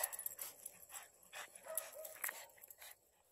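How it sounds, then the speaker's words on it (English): A reactive dog barks, whimpers and pants in faint, irregular bursts at a distance, with no talk over it. "So you can see Cosmo gets pretty upset when he sees Charlie, the other dog."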